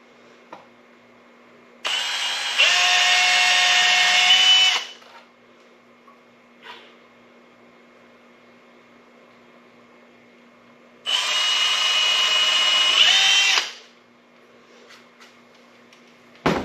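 A power drill bores into pallet wood during a DIY St. Andrew's cross build, giving two loud, sustained whirring bursts of about three seconds each, separated by quiet with faint handling knocks.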